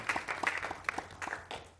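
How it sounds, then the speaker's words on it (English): A small audience at a young entrepreneurs forum claps briefly, a sparse patter of separate hand claps from a few people, fairly quiet and without speech. "I want our audience to give themselves a round of applause, please, for being here."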